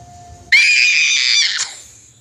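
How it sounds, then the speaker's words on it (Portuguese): Girls in a Monster High cartoon let out a loud, sustained shared scream lasting about a second, then fading, set in a forest where they are lost. "é tanto grito que meu ouvido não aguenta"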